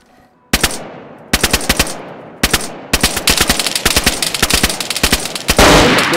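Rapid bursts of gunfire in the video game DayZ Standalone, loud and close, starting with a few single shots and then building into dense automatic fire, with no talking.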